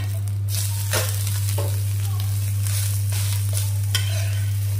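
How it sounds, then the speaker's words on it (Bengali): An egg frying in a pan gives off a steady, even sizzle for the whole stretch, with a few louder stir or scrape bursts and a constant low hum underneath. "এইখানে আবার ডিম ভাজা হচ্ছে"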